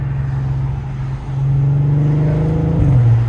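A modified Volkswagen car's engine drones steadily, then swells as it revs and accelerates up through the gears, loud and close from inside the cabin.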